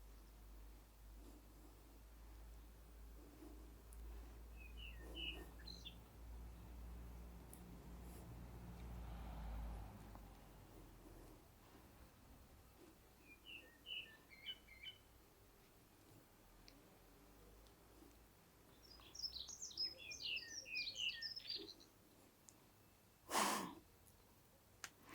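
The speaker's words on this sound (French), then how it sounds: "vous allez peut-être réussir à entendre les oiseaux qui chantent" Birds chirp outdoors in short, faint bursts of song, a few separate phrases spread out over quiet background noise, with one sharp click near the end.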